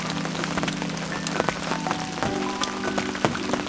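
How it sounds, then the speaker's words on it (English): Heavy rain pours steadily, a dense close hiss of drops striking surfaces with scattered louder splats, continuous throughout with no voices. "I don't really know if you can hear me over the sound of the rain"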